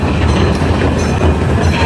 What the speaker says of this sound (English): Now, as we come into the station, I ask that you please remain seated until the train has come to a complete stop.